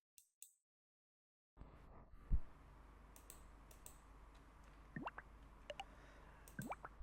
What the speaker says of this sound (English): Then I click on this option.